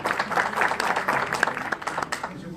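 Audience applause at a French-language session on human resources management in local authorities, a brief dense burst of clapping filling the room for a few seconds, with some voices mixed in.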